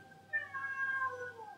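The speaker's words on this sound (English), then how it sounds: "Cats don't meow like that." A single drawn-out, wavering meow from a cat in the 2004 film Catwoman, fairly faint and alone, rising and then sliding down over about a second.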